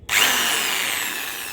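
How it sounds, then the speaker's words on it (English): An electric drill whirs into a door for a handle hole, starting abruptly and holding a steady high-pitched spin that slowly fades slightly, close and loud with no talking. "Have to drill it."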